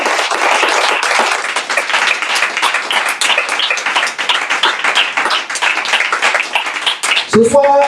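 A church congregation claps and applauds the Lord in dense, continuous rhythmic clapping that fills the room, loud and steady throughout, with a brief vocal sound right at the end.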